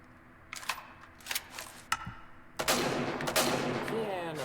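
Gunfire from a weapon in the video game Angels Fall First: a few sharp isolated shots with pauses between, then a dense, loud burst of sustained firing and echoing blasts.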